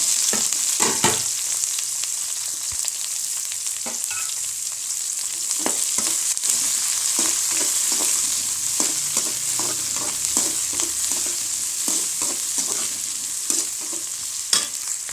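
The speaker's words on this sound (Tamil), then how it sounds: "வெங்காயம் வதங்கட்டும் கொஞ்சம் வெங்காயம் நல்லா வதங்கிடுச்சு" Onions, dried red chillies and curry leaves sizzle and crackle steadily in hot oil with mustard seeds, with intermittent scraping and stirring sounds throughout; no talking.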